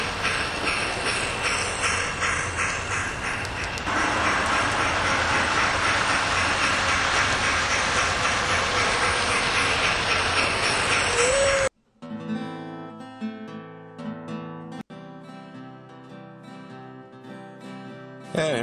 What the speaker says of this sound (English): You can still hear the trains just like yesterday.